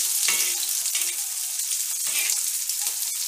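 Two large onions fry in hot oil with garlic and chili for a kavlachi bhaji, a Smithia sensitiva vegetable dish. The sizzle is loud and steady throughout, with occasional stirring and no voices.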